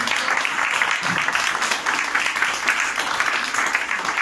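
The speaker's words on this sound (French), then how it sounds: "Je crois qu'il faut applaudir nos intervenants." An audience at an urban ecology conference applauds its speakers, dense continuous clapping that sounds like a full room, steady and fairly loud throughout.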